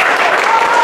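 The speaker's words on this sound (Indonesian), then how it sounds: "Ya, tepuk tangan dulu buat Delia" Classmates in a school classroom applaud a student, a short, loud, continuous burst of clapping from a group nearby.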